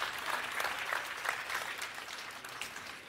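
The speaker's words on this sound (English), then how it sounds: "let's give them a round of applause" Audience applause at a Mercedes-Benz keynote at CES 2024, a steady wash of clapping from a large crowd that holds even and fairly distant for the whole stretch.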